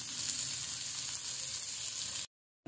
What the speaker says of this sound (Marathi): मी इथं रवा मिक्स केला ह्या फ्लावरला आणि ते मस्त असे क्रिस्पी फ्राय करून घ्यायचे